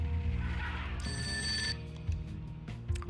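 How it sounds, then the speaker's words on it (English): A telephone in the Serial Cleaner video game rings once, a brief bright electronic trill over steady game music, with no talk. "Oh, I got a phone call."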